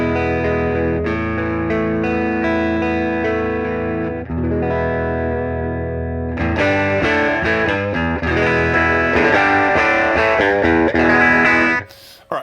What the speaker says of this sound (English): Guitar straight into Logic,